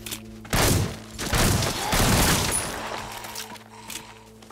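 Gunfire in the VR zombie game Arizona Sunshine, several loud, close shots in quick succession with a short burst and a fading tail, against a steady low hum.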